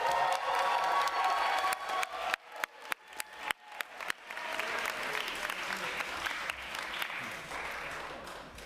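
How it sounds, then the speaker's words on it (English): Audience at a New York City Council committee hearing applauding after a vote, first a dense burst of clapping, then a few sharp individual claps, then a broader sustained round with some cheering and crowd noise. "Y'all could clap."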